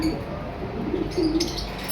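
A red-eye albino personata lovebird breeder pair makes soft cooing and chirping calls, steady and close, with a brief brighter flurry of chirps near the end and no one talking.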